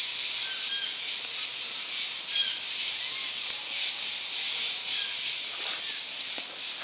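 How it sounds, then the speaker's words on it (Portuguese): Wet firewood in a campfire hisses steadily as water boils out of it, a soft continuous steam sizzle with faint crackles, close and alone. "Isso aqui é água que está fervendo e saindo para fora da madeira."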